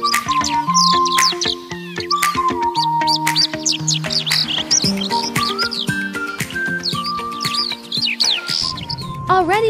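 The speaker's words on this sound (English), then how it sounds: "You can hear the clear and melodious chirping of birds" Many birds chirp and trill in quick, overlapping bursts throughout on a mountaintop, bright and close, over a soft sustained melody.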